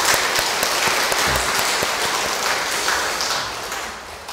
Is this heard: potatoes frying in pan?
no